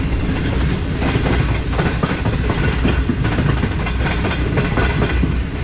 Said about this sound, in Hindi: कराची एक्सप्रेस आ रही है बिल्कुल हमारे सामने से, लाहौर कराची के दरमियान चलने वाली।